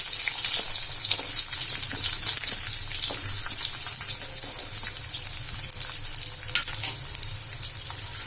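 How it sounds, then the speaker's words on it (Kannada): Chopped amla gooseberries fry in hot oil for a pickle, giving a loud, dense, continuous sizzle with scattered crackling pops, close by and with no voices. "ಇವು ನೆಲ್ಲಿಕಾಯಿ ಹೆಚ್ಕೊಂಡಿರ್ತೀನಲ್ಲ ಇದಕ್ಕೆ ಹಾಕೊಂಡು ಒಂದೆರಡರಿಂದ ಮೂರು ನಿಮಿಷ ಇದ್ರೊಳಗೆ ತಾಳ್ಸ್ಕೋಬೇಕಾಗ್ತದೆ"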